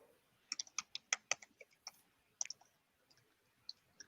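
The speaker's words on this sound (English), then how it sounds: "I gotta stop typing" Rapid clicky typing on a computer keyboard, a fast run of sharp close keystrokes that thins out into a few scattered taps, with no talk.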